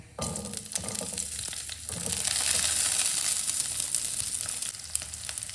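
Steady loud sizzling of chopped onions sautéing in a pan, with a few scraping stirs near the start, continuing without any talking.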